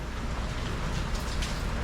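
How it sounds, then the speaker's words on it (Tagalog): Steady rain falling, a dense, continuous hiss with a low rumble beneath it and no voices. "Wala pa rin tigil ang ulan."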